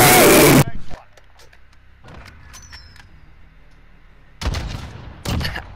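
Sniper rifle shots in an online shooter, a loud blast at the start followed later by two more sharp bursts, with quiet game ambience between and voices talking over it.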